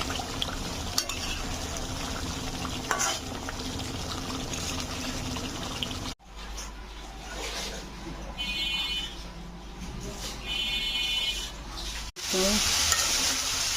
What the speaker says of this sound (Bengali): লাউ শাক ভাজি করছি সিম দিয়ে।